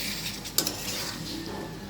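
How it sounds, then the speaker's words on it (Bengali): Cut potatoes get stirred in a cooking pan with dried fish, soft scraping and a sharp utensil clink against the pan over a low sizzle, close and alone. "আলুগুলো নাড়া দিয়ে মিক্স করব।"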